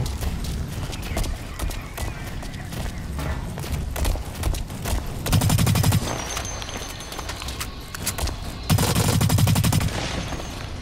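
Automatic gunfire in the shooter game Blacklight Retribution: two loud rapid-fire bursts, each lasting about a second, stand out from a busy backdrop of quieter game noise.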